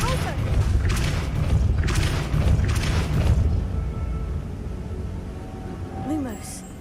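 A Depulso spell cast in a Hogwarts video game: a deep booming blast with rumbling thumps, several heavy bursts over a few seconds that fade into a lower drone, with game sounds throughout.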